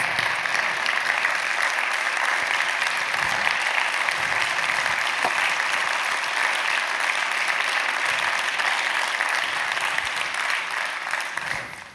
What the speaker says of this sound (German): Und Ihr Applaus.